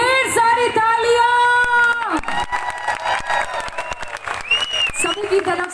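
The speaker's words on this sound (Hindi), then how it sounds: "मुकाम के लिए ढेर सारी तालियां" Audience applause with cheering and whoops at an AWPL crown ambassador event, starting after a held musical tone and swelling into loud, dense clapping with shouting voices.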